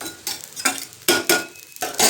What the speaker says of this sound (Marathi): हे आपल्याला खसखस भाजून घ्यायची